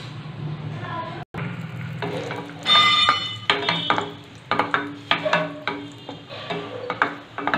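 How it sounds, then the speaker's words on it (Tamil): Cashews sizzle and fry in hot ghee in a pan for Tamil laddoo, with a steady crackling sizzle broken by repeated sharp stirring scrapes and clinks of a spoon against the metal pan. "நெய் காஞ்சிருச்சுங்க. அது கொஞ்சம் முந்திரி போட்டுக்கலாம்."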